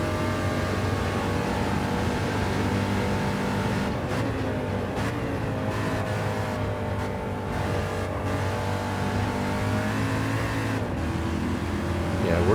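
A touring car engine in Gran Turismo 7 during an 800-class weekly race, droning loudly and continuously with rising and falling revs, brief lifts on gear changes and corners, and steady racing drive throughout.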